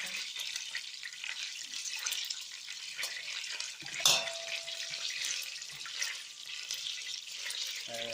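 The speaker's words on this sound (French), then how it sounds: "Dorer la rouelle de chaque côté." A pork rouelle browning in a hot pan gives a steady, bright sizzle that holds evenly throughout, with one sharper clink partway through.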